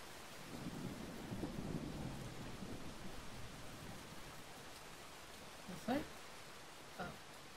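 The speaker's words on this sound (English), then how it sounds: "Very rainy." Rain and thunder in the video game Brothers: a low rolling rumble beneath a constant rain hiss, followed by two sharp thunder cracks close together near the end.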